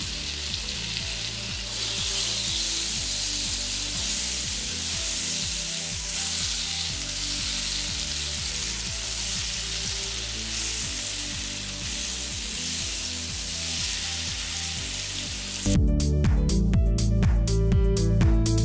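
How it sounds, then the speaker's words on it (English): Onions, peppers and shrimp fry in butter with a loud, steady, close sizzle that carries on unbroken, then turns harsher and louder toward the end. "I'm going to use one half to fry up the onions and peppers and the shrimp."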